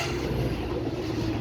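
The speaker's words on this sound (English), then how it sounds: "passing through now is the measuring train." A measuring train passes through a station at Patricroft, a dense, steady rumble and roar of rolling stock, close and loud throughout the short moment with no speech.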